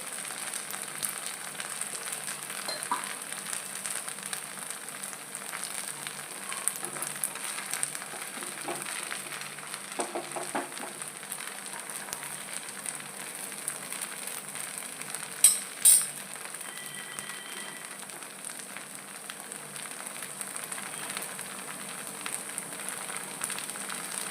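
A crispy onion dosa sizzling on a pan after being brushed with oil, making a faint, even hiss that runs throughout with a few brief clicks partway through and no speech.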